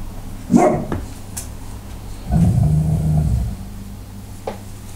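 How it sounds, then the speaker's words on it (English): A dog barks indoors, with one sharp bark followed by a longer, growling bark-roar, then a faint yip near the end. The barks are loud and close, with quiet background between them and no talking. "My dog Jedi holding down the fort"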